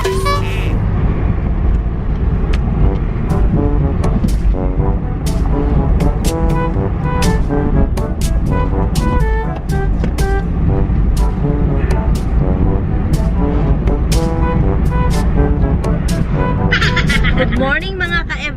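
Inside a moving car on the road, low engine and tyre rumble runs steadily under people chatting and laughing, with short horn-like tones and sharp hiss bursts from passing traffic breaking through.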